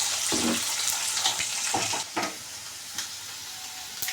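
Dried red chillies and curry leaves frying in hot oil in a pan for a Telugu chilli dal, a steady close sizzle with several sharp scraping stirs of a spoon and no talk.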